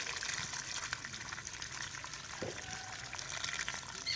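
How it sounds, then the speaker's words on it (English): Water splashing and gushing onto passion fruit plants during dry-season watering on a farm in a semi-arid area, a steady, fairly quiet hissy pour that runs unbroken throughout with no voices. "I'm just watering these passion fruits every day."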